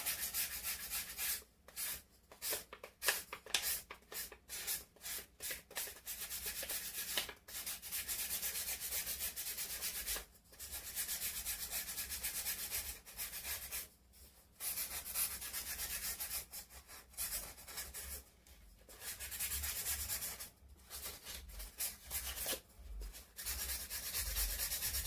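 A styrofoam ball is lightly rubbed to smooth it, giving a continuous soft, dry scratchy rasp that runs on with a few brief pauses, close and fairly quiet.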